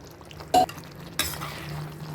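Bottle gourd kola balls dropped into gravy in a pan, two short separate plops about half a second apart, fairly close, then a quiet simmer.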